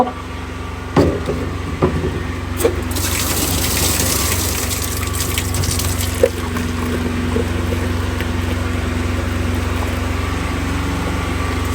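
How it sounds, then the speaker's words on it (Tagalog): Water gushes steadily into a weed-spray tank on an Australian farm, a continuous rushing pour with a few knocks near the start and no talking. "Ayan, lagyan natin ito ng tubig."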